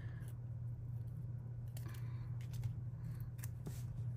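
Scissors cut apart a planner sticker sheet, a handful of faint, quick snips spread over a few seconds above a steady low hum, close by with no talk.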